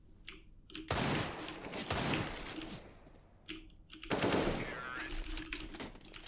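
Rapid gunfire from a Desert Eagle pistol in an online PvP shooter game comes in dense loud bursts separated by quieter gaps, with faint clicking heard in between.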